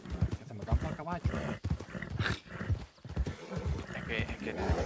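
Hoofbeats of a galloping horse in Red Dead Redemption 2 clatter steadily up close, with a neigh breaking through, while a voice talks over the action.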